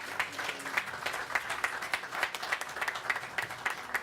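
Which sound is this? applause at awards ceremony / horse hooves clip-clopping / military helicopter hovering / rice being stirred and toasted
applause at awards ceremony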